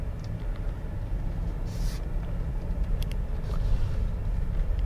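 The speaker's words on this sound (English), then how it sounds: "this thing's got some solid acceleration" A 2021 Ford F-150 PowerBoost Hybrid with a 3.5-liter engine accelerates, heard from inside the cab as a low, steady rumble that builds slightly, with a few faint clicks.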